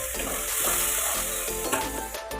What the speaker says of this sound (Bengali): নুন আর হলুদ দিলাম, এবারে এর মধ্যে জল দিয়ে দেবো